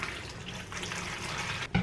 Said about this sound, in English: Now we're gonna go with 400 grams of water.